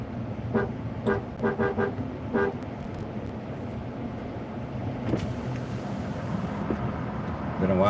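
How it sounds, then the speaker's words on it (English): Truck horn tooting in several short bursts, clustered near the start with scattered later blasts, over steady road and engine noise. "Been a while since we heard the horn blown in my truck, huh?"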